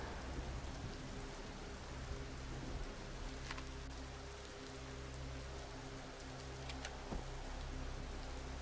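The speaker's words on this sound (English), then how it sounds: "We're still under heavy acid rain." Heavy acid rain pours down in the video game Empyrion on a starter planet, a steady, dense hiss of rainfall with scattered droplet ticks and a faint low hum beneath, no voices.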